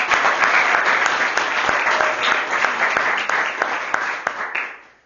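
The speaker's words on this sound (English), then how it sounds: "Let's give him a round of applause." Audience applause at a small graduation ceremony: a room of people clapping steadily at close range, with a few sharp claps standing out, before it fades away at the end.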